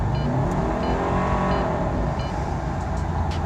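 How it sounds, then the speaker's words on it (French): A car engine with a slipping clutch disc revs steadily and loudly, its pitch climbing in a sustained rising whine as the RPM increases. "un disque de clutch qui glisse va faire en sorte que votre RPM va monter très facilement sans que la voiture se déplace"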